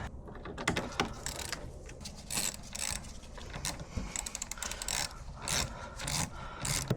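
A ratchet tightens the battery terminal clamp on a 1998-2002 Toyota Corolla, giving quiet irregular clicking and scraping bursts close by, with no speech.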